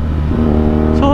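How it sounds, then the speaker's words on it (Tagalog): A BMW R nineT motorcycle's boxer engine drones loud and close while riding, its pitch rising briefly as the engine revs. "Sarap dali nung boxer type na engine."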